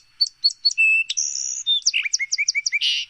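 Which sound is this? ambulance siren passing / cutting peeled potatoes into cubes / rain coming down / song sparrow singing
song sparrow singing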